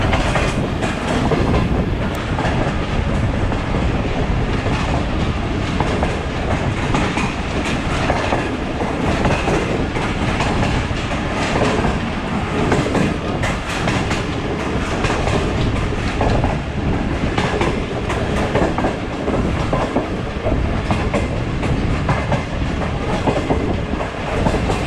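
Allama Iqbal Express on the Sialkot to Lahore run passing through Badami Bagh station, with a loud, steady rumble and rhythmic wheel clatter over the track lasting throughout, heard close from on board with no talk.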